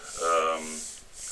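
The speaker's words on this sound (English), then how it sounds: "now I'll just go ahead and sand down the surfaces" Sandpaper rubbing back and forth over a wooden table top to strip its old finish, a close, scratchy stroke that swells and fades once over about a second.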